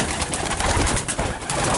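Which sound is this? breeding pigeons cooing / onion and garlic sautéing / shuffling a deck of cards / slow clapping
breeding pigeons cooing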